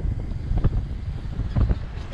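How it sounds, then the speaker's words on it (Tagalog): Strong wind roars across the microphone in a steady low rumble, with heavier gusts buffeting it now and then. "Lakas ng hangin dito."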